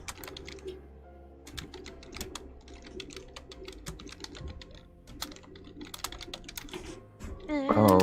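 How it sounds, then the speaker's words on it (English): Rapid clicking of keys on a computer keyboard, close and steady in irregular bursts throughout, with faint background sound and a voice rising briefly near the end. "Just typing in chat."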